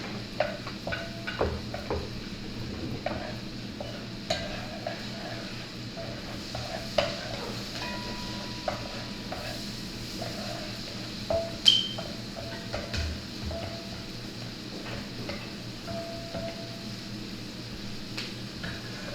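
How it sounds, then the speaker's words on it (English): Steady sizzling of shrimp frying in a pan, with occasional stirring clinks and scrapes of a utensil against metal; no voices. "we're gonna get this frying"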